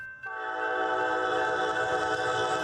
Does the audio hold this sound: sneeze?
no